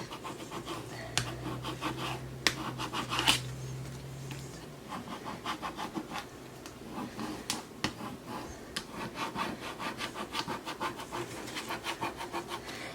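A squeegee pushes water out from under vinyl letters on a tile, giving repeated short rubbing and scraping strokes close by, with a faint low hum early on and a few sharper clicks.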